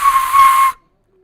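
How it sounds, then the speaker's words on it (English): A single sustained whistle, loud and steady, blown by a person during a live Inter vs Roma Serie A match reaction, lasting under a second before cutting to silence. "I'm whistling him."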